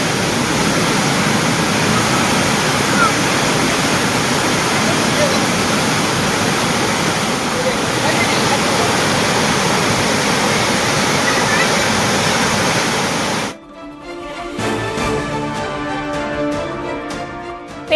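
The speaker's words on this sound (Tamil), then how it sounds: "கள்ளக்குறிச்சி மாவட்டத்தில் பெய்து வரும் கனமழையால் பெரியார் நீர்வீழ்ச்சியில் வெள்ளப்பெருக்கு" Periyar waterfall in Kallakurichi district, swollen with red floodwater after heavy rain, gives a loud, dense, continuous roar. It breaks off abruptly near the end into quieter, tonal music.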